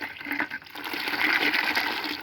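Tap water gushes from a pipe over neem seeds being rinsed, a steady close splashing rush that swells and continues throughout without talk.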